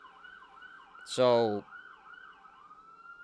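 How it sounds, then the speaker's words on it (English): A distant emergency siren wails up and down steadily in the background, briefly covered by a single spoken word from a nearby voice. "sorry about the sirens"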